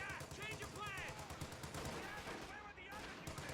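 Company of Heroes 2 battle gunfire as Panzer Fusiliers in cover trade fire with paratroopers: steady rattling small-arms and machine-gun bursts throughout, with a commentator's voice over it.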